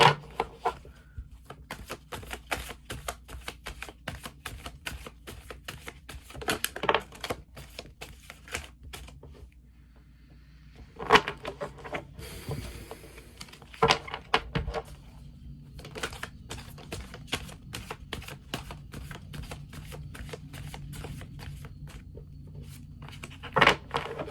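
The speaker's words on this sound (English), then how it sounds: "Just want to shuffle like this with the other hand for this one." Tarot cards shuffled by hand, giving quiet, rapid clicking and flicking in irregular bursts with a short pause partway through, close and alone without talk.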